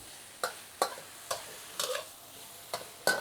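Squid chunks stir-fried in a pan with little oil: six sharp spatula scrapes spaced about half a second apart over a faint, quiet sizzle, close by with no talk.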